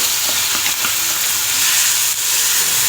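Hot oil sizzles loudly and continuously as ripe red chillies hit the pan, a bright crackling hiss with a few stirring scrapes.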